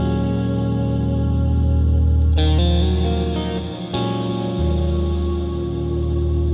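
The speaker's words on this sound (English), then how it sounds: "we get this real epic space type of reverb." A sustained synth tone washed in huge, spacious space-type reverb from the PolyChrome DSP Lumos, its long shimmering tail swelling and shifting in pitch, loud and continuous.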